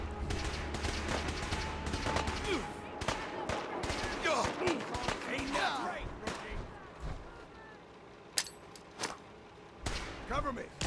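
Scattered gunfire in a Fallout 4 battle, with irregular shots and bursts of varying loudness mixed with impacts and clatter. Voices talk and shout throughout the fight.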